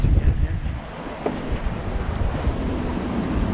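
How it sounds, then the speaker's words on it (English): Strong steady wind roars over a microphone aboard a sailboat at sea in about 23 knots, with a constant low rumble and faint wave wash beneath, no talking. "I'm looking at 23 knots of wind."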